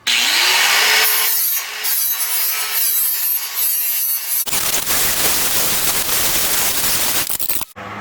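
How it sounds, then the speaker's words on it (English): A 60 grit flap wheel grinding galvanized coating off a steel barn door rail, a loud continuous abrasive roar close by that shifts to a harsher, broader rasp partway through before cutting off at the end. "I'm just going to use this 60 grit flapper wheel to do that"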